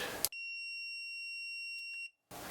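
A continuity tester gives a single sustained high-pitched electronic beep lasting nearly two seconds, clear and close, with brief noise bursts before and after.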